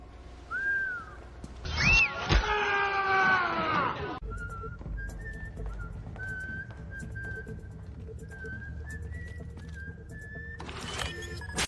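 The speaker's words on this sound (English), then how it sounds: "there's a lot of whistles." A series of whistle tones sounds one after another, sliding and held notes, with a burst of a horse-like whinny and harsher noise in between.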